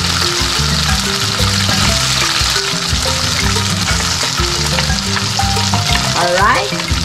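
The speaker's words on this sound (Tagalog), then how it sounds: "Pumipitik-pitik ang mga mantika." Onions fry in hot cooking oil with a steady, close crackle and frequent pops, while music plays underneath throughout.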